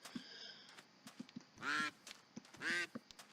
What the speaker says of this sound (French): nous pouvons déjà apercevoir des canards